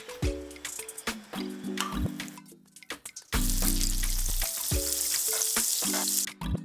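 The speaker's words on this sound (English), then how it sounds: "Melt some butter into a pan." Butter melts in a frying pan, sizzling and popping steadily, with clinks and scrapes of a utensil early on and then a louder, continuous hiss of frying.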